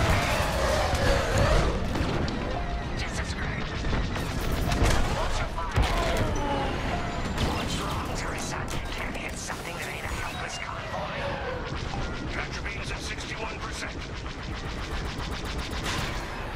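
Rapid blaster fire and explosions from a Star Wars Squadrons space dogfight against TIE Fighters on PS5, dense and continuous throughout with layered crackling bursts and booms, a voice talking over the action.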